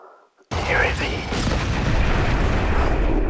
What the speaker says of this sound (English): My ship's all exploded all over the place. And it's still exploding.